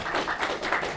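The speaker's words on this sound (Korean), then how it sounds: "우리 박수로 반겨주시기 바랍니다." A church congregation at a Korean Presbyterian Sunday worship service claps in welcome, a brief burst of rhythmic, overlapping hand claps from a crowd with no talk.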